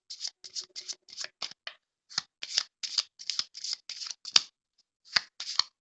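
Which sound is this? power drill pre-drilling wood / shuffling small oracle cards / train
shuffling small oracle cards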